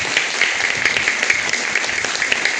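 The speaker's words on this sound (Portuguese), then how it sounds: "Vamos dar uma salva de palmas nessa palavra." Church congregation applauding together during a worship service, a dense, steady wash of clapping that stays loud and even for a few seconds with no speech over it.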